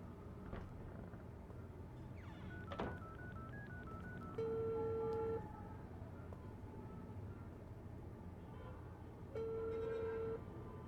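Phone number being dialed in the video game Unheard, a police station scene: two sustained keypad-style tones, each about a second long and several seconds apart, sit over a steady low background hum.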